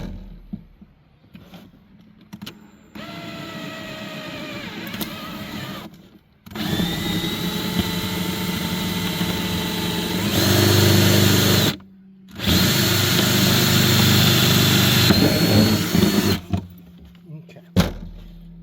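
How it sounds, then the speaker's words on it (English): A power drill bores a hole for a DIY egg incubator, a loud whining motor that runs in several long bursts, rising in pitch, separated by short stops. "Now I'm going to drill a hole right through here."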